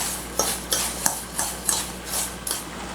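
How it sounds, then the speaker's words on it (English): Spoon scraping and clinking in a bowl while mixing melted butter with crushed Ritz crackers for a chicken broccoli rice casserole, with about seven sharp taps spaced through the clip over a steady faint hiss, no talking. "I'm going to mix the melted butter and the Ritz crackers"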